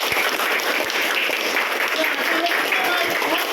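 A classroom of students claps together in a dense, continuous burst of applause, even and steady from start to finish with no clear voices on top.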